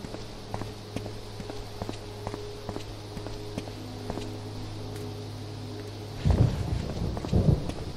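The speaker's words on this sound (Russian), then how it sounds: "Блин, нехорошо, что дождь пошел." Steady rain hiss with low rumbling thunder swells in Silent Hill: Downpour, joined by a few soft thuds and a louder burst of rumbling near the end.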